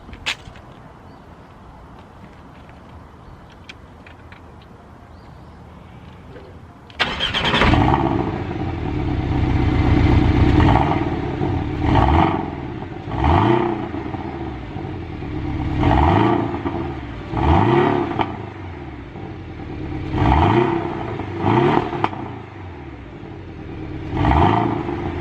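A Porsche 718 Boxster engine in sport mode bursts into loud, close revving after a quiet idle, then climbs and falls through a series of sharp throttle blips with rumbling, popping overrun between them.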